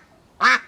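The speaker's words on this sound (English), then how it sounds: "You'll be quacking to yourself, Miss Freya." A single loud, close quack from a broody backyard duck rings out after a moment of near silence.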